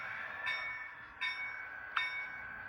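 Small HO scale model train on a portable layout, with three short soft pulses of a tonal horn-like chime spaced across a quiet, hissy background as it gets underway.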